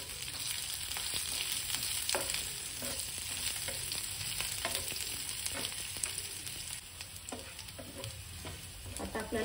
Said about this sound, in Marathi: लसूण छान परतला की आपण त्याच्यामध्ये कढीपत्ता घालूया.